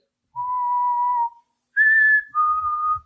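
A person whistles an imitation of the kushtaka's legendary call: three clean, sustained tones running low, high, then low, each about a second long, with a short gap before the high note. Clear and close, with no talk.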